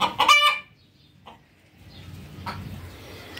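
A hen gives a loud close cluck-squawk, followed by quieter scattered clucks against a low background rumble.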